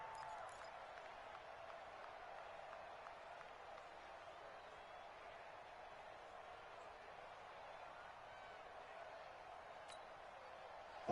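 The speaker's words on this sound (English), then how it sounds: "the crowd getting into it as we come up on a big 3rd down" A steady wash of crowd noise fills a football video game stadium, a faint, continuous roar of cheering and clapping with no single standout burst.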